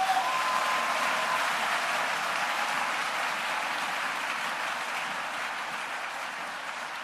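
A church congregation at a worship service applauds and cheers to acclaim the Lord, a dense continuous wash of clapping that holds steady and fades slightly toward the end.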